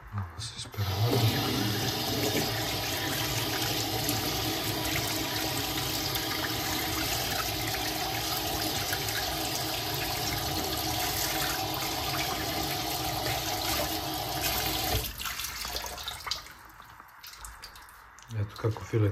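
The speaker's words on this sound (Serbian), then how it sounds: "Ovo se ispere vodom." Running tap water pours steadily over a cleaned Prussian carp fillet in a sink, a continuous broad rush for about fifteen seconds before easing off, with a voice speaking over it.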